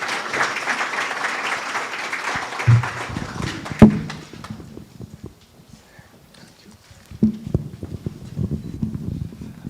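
Applause from a seated audience at a live Traditional Chinese Medicine forum as guest doctors are welcomed onstage, loud dense clapping that thins out and fades midway, followed by scattered faint rustles and a few late claps.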